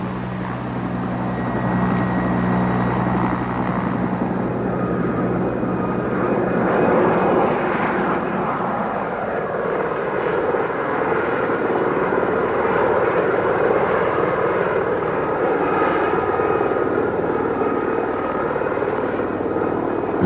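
A helicopter runs in a steady, continuous drone close by, its rotor and engine noise filling the whole stretch evenly without pause, and no voices are heard.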